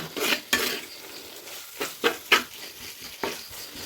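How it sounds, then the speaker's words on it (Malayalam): Spice powders stirred and sautéed in a pan for a meat curry, the spoon scraping in repeated soft strokes over a low sizzle, close and fairly quiet with no talking. "ഇനി ഇത് നല്ല രീതിയിൽ അങ്ങ് വഴറ്റും."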